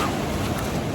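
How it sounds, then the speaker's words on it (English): Ocean surf at a beach washes in a continuous broad rushing roar with wind noise buffeting the microphone, loud and steady for a brief moment. "Can you hear the waves?"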